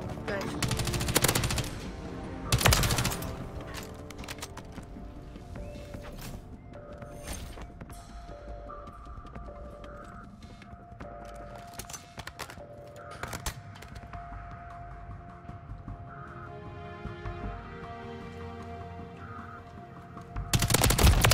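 Assault rifle fire in a Call of Duty: Modern Warfare III multiplayer match: bursts of automatic gunfire, loudest near the start and end, with game sounds and scattered effects between.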